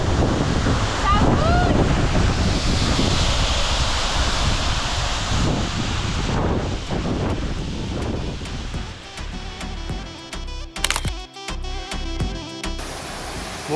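Steady broadband rushing of the Grunas waterfall in Albania, loud and continuous, with wind buffeting the microphone and some handling thumps toward the end.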